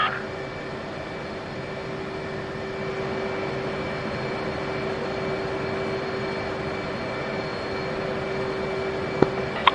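Steady jet engine roar with a high whine from a military aircraft at Nellis in the DCS flight simulator, rolling for takeoff on a three-ship launch; continuous, near and fairly loud, with a brief click near the end.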